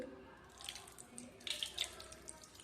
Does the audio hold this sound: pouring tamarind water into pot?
yes